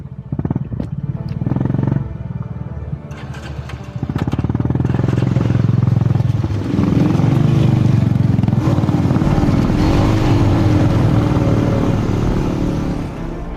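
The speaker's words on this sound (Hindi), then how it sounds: "हमारा बाइक थोड़ा थोड़ा मिसिंग मार रहा है" A Honda motorcycle engine runs rough and misfires while riding the mountain road of Sach Pass, a loud, close, throbbing drone with uneven surges and a rise in revs partway through.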